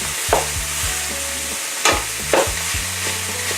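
A pound each of ground sirloin and ground chuck browning in a pan, a steady sizzle broken by several sharp scrapes and clanks of a utensil stirring the meat.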